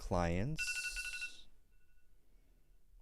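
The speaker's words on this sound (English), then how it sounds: "That's my alarm going." A phone alarm timer rings with bright repeated electronic chimes right after a voice speaks, then fades away to quiet room noise.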